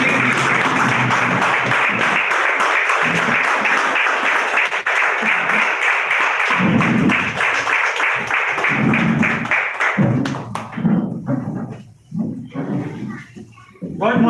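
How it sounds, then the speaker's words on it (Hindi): A crowd at a Modicare experience-sharing gathering claps loudly and continuously, then the applause breaks up into scattered claps as a voice begins speaking over it. "तो दोस्तों आपकी जोरदार तालियों के बीच में"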